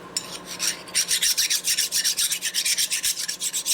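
Steady rhythmic rasping of a metal file scraping back and forth across a part of a 1972 Harley-Davidson XL Sportster 1000cc Ironhead engine, quick regular strokes, close and alone.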